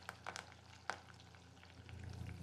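Onions frying in oil with curry leaves, a very faint sizzle with a few soft utensil taps early on, the hiss building slightly toward the end.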